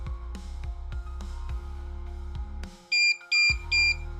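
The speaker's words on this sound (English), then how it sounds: "You'll hear the beep, and it's recording." A motorcycle accessory unit wired through a fuse tap powers on with three short, high electronic beeps in a quick run, heard over a steady engine idle hum.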